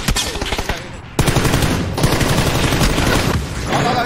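Loud, close bursts of automatic gunfire in a video game, one rattling volley after another with only brief pauses between them.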